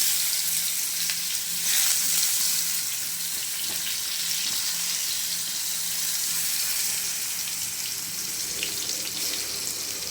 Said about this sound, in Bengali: তেল দিয়ে দিলাম কুমড়ো আলু ভাজার জন্য, কুমড়ো ভাজার জন্য।